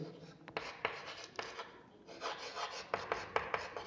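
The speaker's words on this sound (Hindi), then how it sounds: "यहीं पे लिख देते हैं" Pen or chalk writing out a maths equation, a series of faint scratchy strokes with short pauses between them, no voice.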